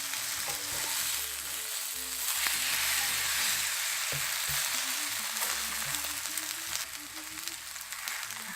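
A Korean cabbage jeon pancake sizzles in a pan after being flipped, a steady frying hiss with a few sharp crackles and light scraping, under soft background music.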